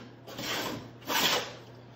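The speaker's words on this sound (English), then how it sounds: "I finally got this plane adjusted where I want it. So it's just barely taking a little bit off" A hand plane shaves fine, thin curls of wood from a wooden kayak hull, two separate raspy strokes in quick succession, close up and fairly soft, with no talking.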